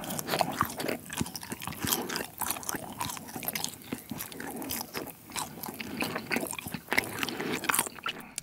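Trolli gummy jelly being chewed close to the mic, with steady squishy, crunchy bites and wet mastication sounds running continuously with no talking.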